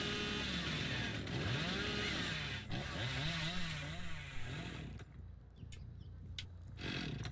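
A chainsaw revs in the Dead by Daylight video game, droning with rising and falling pitch swoops over a steady game soundscape before cutting out into sharper clicks and hits.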